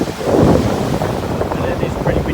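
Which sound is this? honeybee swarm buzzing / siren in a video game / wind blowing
wind blowing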